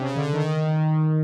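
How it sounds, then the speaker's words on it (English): An analog synth plays chords in a beat production, a bright sustained tone with a rich stack of harmonics and a slight pitch bend at the start, ringing alone and fairly loud. "this analog lap synth"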